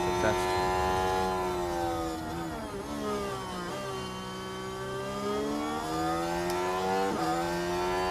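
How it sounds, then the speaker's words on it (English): A Formula 1 race car engine in the video game F1 Manager 24, set at Sakhir, holds a steady high-pitched whine that dips and then climbs again as it shifts through revs, with a person talking over it throughout. "Talking over the engine, hopefully."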